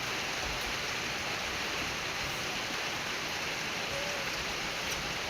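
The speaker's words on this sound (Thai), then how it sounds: "ฝนตกเด้อพี่น้อง" Steady rain pours down outdoors in rural Thailand, a dense continuous hiss without pause across the whole stretch, close and fairly loud, with no talking.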